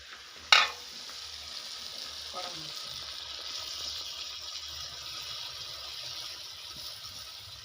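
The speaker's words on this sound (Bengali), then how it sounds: "আমি এদিকে কড়াইয়ের মধ্যে ভাজিয়ে নিই নাবড়া পিঠা" Nabra pitha frying in oil in a wok: a steady, fairly quiet sizzle running throughout, with a sharp clatter near the start and occasional faint stirring.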